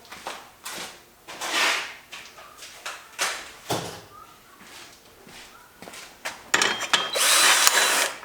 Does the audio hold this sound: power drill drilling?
yes